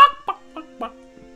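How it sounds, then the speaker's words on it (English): Chickens give four short, sharp clucks spaced irregularly over about a second. They sound close and loud against a quiet background. "Good old chickens."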